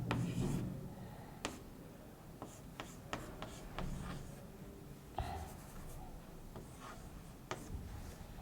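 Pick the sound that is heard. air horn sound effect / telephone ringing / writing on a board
writing on a board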